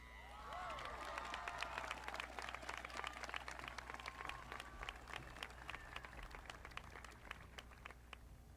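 Applause from a high school graduation ceremony audience, many hands clapping in a continuous, fairly even roar with a few whistles and cheers over it, sounding somewhat distant in a large hall.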